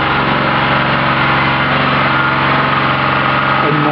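Larger replacement engine running on a Charlek gasifier, a loud, close, continuous idling drone with steady rhythmic firing pulses and no talk over it.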